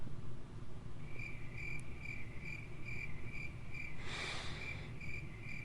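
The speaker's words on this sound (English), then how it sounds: "I hope you like the crickets." Crickets chirp in a steady, regular pulse throughout, moderately close, over a low background hum with a brief burst of hiss partway through; no one speaks.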